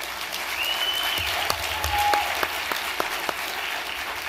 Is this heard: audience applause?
yes